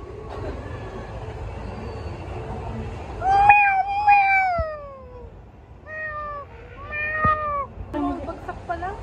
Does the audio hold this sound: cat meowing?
yes